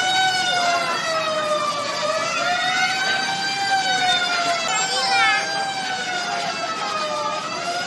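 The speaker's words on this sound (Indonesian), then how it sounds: "ini adalah mobil damkar teman-teman" A toy fire truck's electronic siren wails in rising and falling tones, loud and close and running throughout, while a voice talks over it.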